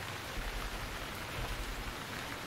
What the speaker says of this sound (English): so I'm wondering if I should wait the rain out.